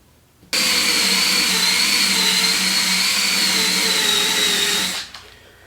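A power tool spins an eraser wheel against leftover adhesive on a Jeep CJ7 tub, making a steady high-pitched whine. It starts abruptly, holds for about four and a half seconds, then winds down and stops. No one speaks.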